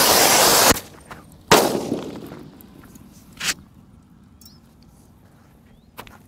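Several sharp firecracker bangs: a loud burst at the start, another strong crack soon after, then a smaller pop and a faint final snap, with quiet gaps between.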